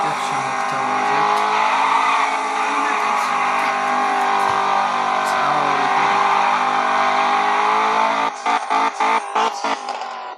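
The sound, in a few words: car engine revving in Roblox video game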